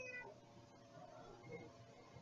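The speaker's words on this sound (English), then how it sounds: "There's a cat outside the door just yelling," A cat yowling outside a door indoors, a few drawn-out meows at moderate distance, fairly faint against room noise.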